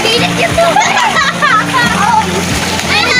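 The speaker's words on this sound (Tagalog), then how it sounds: "May lumalagapak na tubig, oh." Water splashes and sloshes in a steady, continuous patter, close and fairly loud, with children's voices and a droning hum running underneath.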